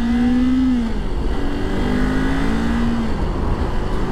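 A 2022 Kawasaki Ninja 400 motorcycle engine is wound up slowly under load on a road, giving a loud, close, steady droning tone that rises then levels off, with no speech.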